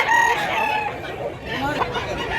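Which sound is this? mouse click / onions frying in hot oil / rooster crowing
rooster crowing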